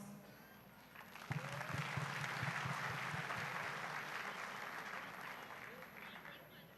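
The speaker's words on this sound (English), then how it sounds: "let us all give a round of applause" An audience at a stage event applauds, the clapping swelling in after a brief pause and holding as a broad, steady roar with a few low thumps near the start, then easing slightly toward the end.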